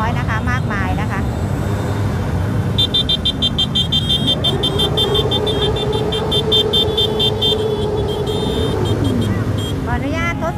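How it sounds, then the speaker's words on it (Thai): Motorcycles and street traffic at a street protest at the Ratchaprasong intersection in Bangkok make a busy, continuous engine roar with passing bikes and a brief horn, while people talk nearby. "มอเตอร์ไซค์ก็ยังคงเยอะแยะเลยนะคะ"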